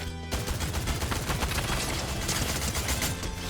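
Dense gunfire in Fortnite crackles in a rapid, continuous burst of overlapping shots, loud and close, like automatic fire from a fight.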